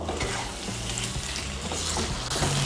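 Fried sweet pumpkin pieces being mixed with spices in a hot pan, producing a dense, continuous close-up sizzle with faint stirring and a low hum beneath.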